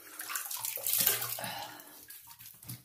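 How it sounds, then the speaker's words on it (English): Running water from a tap splashing close by during a rinse after a wet shave, a brief gush that swells and then tapers off, with no talking. "Let me rinse up."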